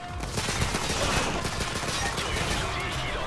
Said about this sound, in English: I got on the machine gun!